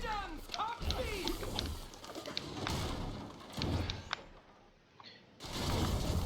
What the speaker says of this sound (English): Pigeons, come feed!